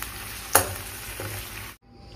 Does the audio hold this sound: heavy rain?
no